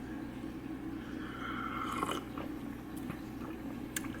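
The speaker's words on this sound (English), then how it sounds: "we're about to take a bite from this amazing, blessed breakfast meal" Close, soft chewing and biting on a grilled butter egg and bean sandwich, a steady mouthy crunch running throughout with a few sharper clicks, no talking.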